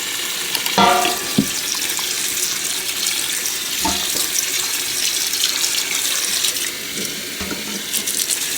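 Tap water runs steadily into a sink while a cooking pot is rinsed out after boiling chitterlings, a constant close splashing stream with a few brief knocks of the pot against the basin.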